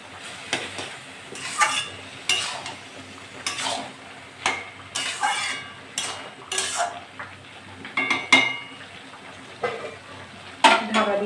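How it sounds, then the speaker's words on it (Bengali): Bottle gourd shukto with prawns being stirred in a pan, with repeated scraping and clinking strokes of a spoon against metal at an irregular rhythm, close and clear over a faint sizzle. "এটা নেড়ে চেড়ে নেবো।"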